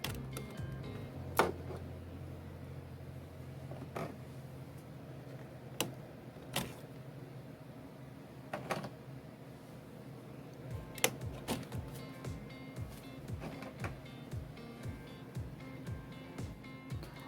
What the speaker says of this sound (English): you got to make sure you hear that clicking sound when you put it in there